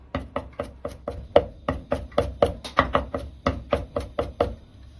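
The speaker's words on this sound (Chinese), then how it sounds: "大蒜稍微多一点，一小块生姜，先拍破后再剁碎" A kitchen knife smashes and then minces garlic and a small piece of ginger on a cutting board for a celery and shredded pork stir-fry. Around twenty sharp, evenly spaced chops sound close and clear, with no talking.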